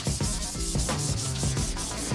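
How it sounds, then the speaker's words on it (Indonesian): Sandpaper worked by hand over a wooden surface during finishing prep, close and loud rhythmic rasping strokes repeating about every quarter second, with no talking. "bisa juga menggunakan amplas manual seperti yang saya lakukan ini"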